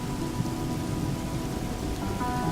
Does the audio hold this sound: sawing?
no